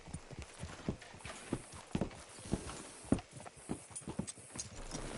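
Horse hooves clip-clop in a steady walking rhythm within a video game, moderately close and clear, with no one talking over them.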